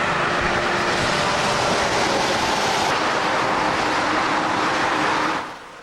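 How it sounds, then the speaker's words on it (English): Cars rush past on a nearby road as a constant loud roar of tire and engine noise that fades out abruptly near the end. "it's loud with the cars"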